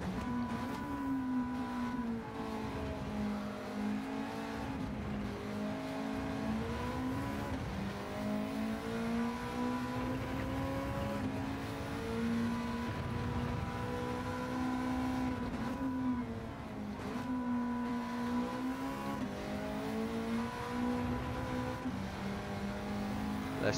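Honda Civic Type R race car in Gran Turismo 7 on the Le Mans circuit, a steady droning engine note rising and falling through gear changes, sustained throughout with other cars faintly around it.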